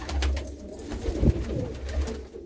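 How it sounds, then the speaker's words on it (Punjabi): Pet pigeons coo close by, soft low throaty rolls repeating in a loose rhythm with a slight rise near the middle, against quiet background with no talking. "ਦੇਖੋ ਆ ਕਿੰਨੇ ਕੁ ਕਬੂਤਰ ਇੱਕੋ ਜਿਹੇ"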